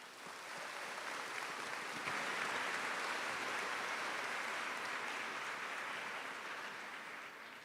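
Steady applause from a graduation ceremony crowd at a high school commencement, a dense, even wash of clapping that swells slightly and holds for several seconds before easing off.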